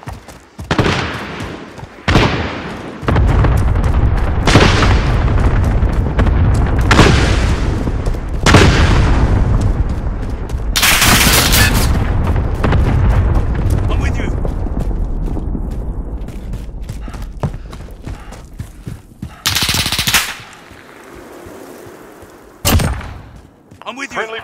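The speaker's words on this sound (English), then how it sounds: "Allied cluster strike inbound." Cluster strike explosions in Call of Duty: Modern Warfare, a series of heavy booms and thuds landing one after another with crackling debris, mixed with gunfire and radio voices, then thinning out toward the end.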